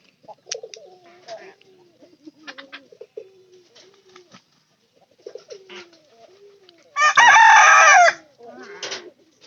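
Hens cluck in short scattered calls around a yard, then a rooster lets out one loud, close crow near the end, followed by more clucking.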